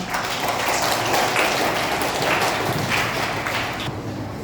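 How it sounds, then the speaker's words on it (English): A class of schoolchildren clapping their hands together at a school road safety session, a dense, steady patter of many claps that fades out near the end. "Clap hands, children."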